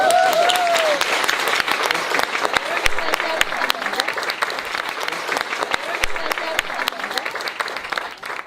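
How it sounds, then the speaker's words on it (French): A group applauds itself, loud at first with a brief whoop, then settling into steady, dense clapping with a few scattered voices underneath. "Je pense qu'on peut s'applaudir."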